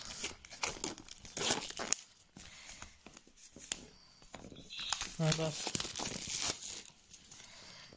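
Packaging of a Huawei Watch GT4 box crinkles and tears in bursts as it is unpacked nearby, with people talking over it throughout.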